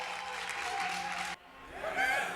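A conference audience applauds two Google speakers at a FinOps gathering, a steady wash of clapping that cuts off abruptly partway through before a voice speaks over the quieter room.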